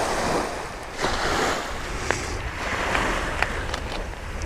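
Waves along the Long Island Sound shoreline in Southern Connecticut, a continuous wash of surf swelling and receding in gentle surges, mixed with wind buffeting the microphone, with no one speaking.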